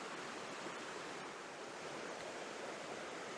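Water rushes over rocks on Dartmoor as a steady, dense hiss and roar, constant and unbroken at a moderate distance, with no voices.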